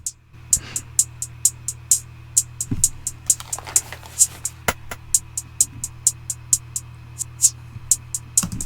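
Crisp hi-hat ticks repeat in a steady, quick rhythm over a low electronic hum, with occasional stuttering glitchy bursts between hits.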